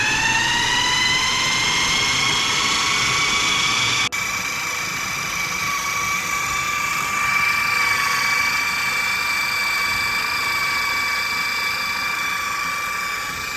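Food processor pulsing Puerto Rican sofrito (recaito) ingredients: a loud, steady motor whine with a tonal, harmonic edge that cuts briefly about a third of the way in, then resumes and runs on. No one speaks.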